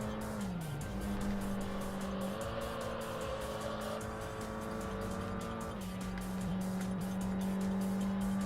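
Race cars in the Import Tuner Challenge video game roar steadily with a sustained engine drone and shifting whine, tires squealing intermittently, heard close and alone with no talk.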